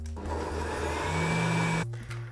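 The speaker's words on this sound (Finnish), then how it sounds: "Vadelmat liemineen blenderiin ja soseutetaan." A blender purees softened raspberries together with their cooking syrup, a loud steady motor whir with churning liquid that runs continuously before cutting off abruptly near the end.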